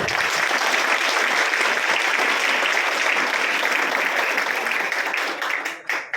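A dense audience claps loudly and steadily at a free school supplies distribution event held by a youth foundation in Shahuwadi, then the applause thins and fades over the final second.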